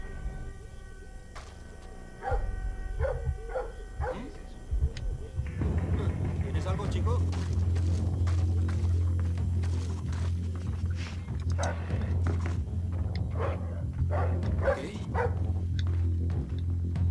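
A guard dog barks repeatedly during a stealth mission in Splinter Cell Blacklist set in Ciudad del Este, Paraguay, with sharp woofs over game music and a voice talking.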